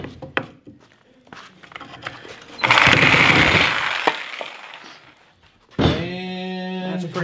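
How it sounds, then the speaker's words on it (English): An oscillating saw cleans up the wooden surface of a barn column, starting as a loud, coarse grinding burst that runs for a few seconds, then returning as a steadier, buzzing whine near the end. "Clean that up a little bit with the front oscillating saw."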